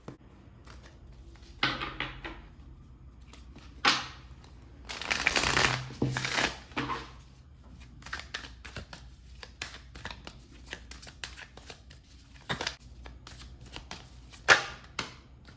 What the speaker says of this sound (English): I'm going to go ahead and shuffle tarot and oracle cards